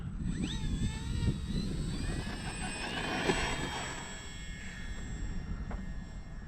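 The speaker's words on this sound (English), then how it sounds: "Good flying plane." An FMS PC-21 Pilatus RC model airplane flies overhead, its electric motor whining in rising and falling tones as it passes at moderate distance over outdoor background noise.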